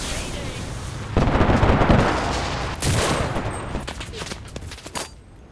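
Bursts of gunfire and explosive blasts from a battle in the World War II shooter Enlisted, loud and dense with several heavy volleys and scattered shots, with a voice talking over the combat.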